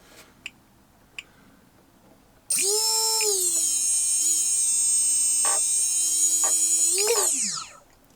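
An electric motor on a model airplane spins up abruptly to a loud, steady high whine, holds there with slight pitch wobbles, then briefly rises before winding down and fading out.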